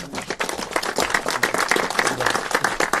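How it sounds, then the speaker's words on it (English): Audience applause at a California redistricting news conference, a loud, dense burst of many hands clapping with sharp individual claps standing out throughout, no voices over it. "Can we please give him a round of applause?"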